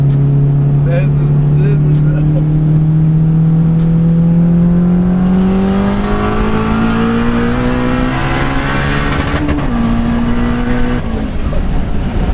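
Turbocharged K20-swapped 1996 Honda Civic hatchback pulling hard in fourth gear, a loud continuous engine note rising steadily in pitch with turbo whine, then a brief dip at a shift, heard from inside the car.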